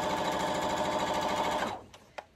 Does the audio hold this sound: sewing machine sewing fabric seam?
yes